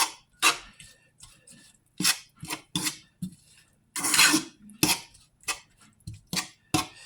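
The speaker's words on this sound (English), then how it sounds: "I'm stirring." Chicken teriyaki stirred in a pan, giving a run of short, irregular scrapes and clinks of a utensil against metal at close range, with brief quiet gaps between strokes.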